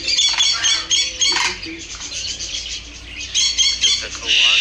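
A stone curlew (karawan) at a bird park squawks and chatters in loud, close, repeated harsh calls, with other bird sounds and some human voices nearby.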